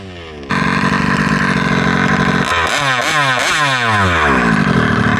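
A Kraken Vesla RC car's engine with a blown transmission starts up, holds a loud buzzing idle, then revs in several sharp rising and falling surges, close and without talk.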